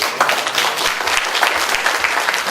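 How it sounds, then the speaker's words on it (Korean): An audience at a 2013 staff demonstration gives a brief round of applause, a lively, continuous patter of clapping at close range. "박수 한번 보내주세요"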